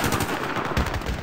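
Grenade launcher firing in Battlefield 3, a burst of loud, close, booming shots in quick succession that fill the whole moment with no voice over them.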